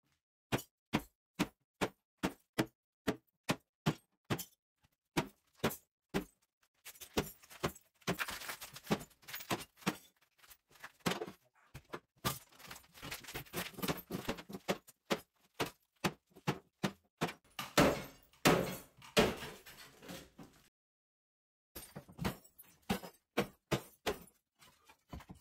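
An old cast iron bathtub being broken up by two workers, with rapid sharp metallic hammer strikes in a steady rhythm, then clustered banging and crashing, a brief pause, and more blows, close and loud.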